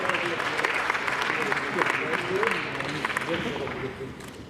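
Audience applause at a presentation during the Open du Nord event, sustained clapping of moderate volume with a murmur of voices mixed in throughout.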